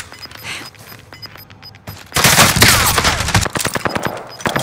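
Gunfire in the video game Warzone: a few scattered shots at first, then a dense, loud burst of rapid automatic fire that keeps crackling up close to the end.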